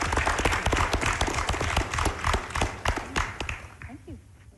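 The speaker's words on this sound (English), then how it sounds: "If you can give them all a round of applause." A room of attendees at the Halifax International Security Forum in Taipei gives a round of applause, with crisp, rapid claps blending into a full wash that tapers off as a voice begins speaking near the end.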